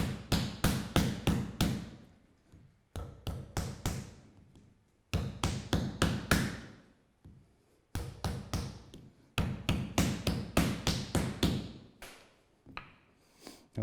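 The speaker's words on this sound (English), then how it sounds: "So I'm forging it down into a piece, folding it in half." Hammer forging a pattern-welded steel billet that is being folded, drawn out and folded again to build up layers: bursts of rapid, loud metallic blows in groups of about two seconds, separated by short pauses.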